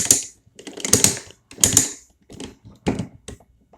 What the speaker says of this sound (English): you can rotate his waist like one click